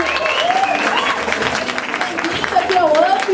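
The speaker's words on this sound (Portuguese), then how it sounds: "palmas pra ele" Audience applause fills a stage event where a voice actor is being introduced, steady and dense throughout, with a host's voice and cheers rising over the clapping near the end.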